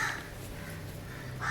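A crow caws twice, once at the start and again near the end, with quiet outdoor background between the calls.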